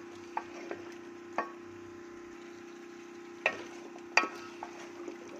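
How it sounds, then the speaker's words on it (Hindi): Potatoes and peas roast in masala in a pot, with a low steady hum under sparse, sharp clacks and scrapes of a spoon against the pot, quiet overall and without talking. "तो मटर आलू की अच्छी तरह हमने भुनाई करनी है, तो हमने खूब भूनना है"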